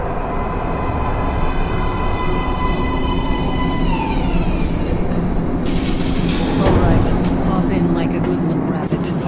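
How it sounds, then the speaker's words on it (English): A train in the video game Metro: Last Light rumbles in loudly with a drawn-out descending whine as it slows, then metallic clanks and hisses near the end, all in a game soundscape. "Train coming in."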